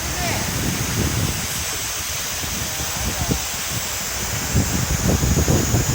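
The Kise River in Susono, Shizuoka, swollen after Typhoon No. 5, roars as a loud, constant rush of floodwater, with wind buffeting the microphone.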